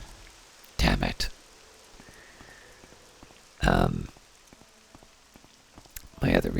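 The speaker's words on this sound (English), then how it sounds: "I am taking a rest until it stops raining." Rain falls steadily in the video game The Elder Scrolls III: Morrowind, a constant patter throughout. Several loud, broadband bursts break in over it.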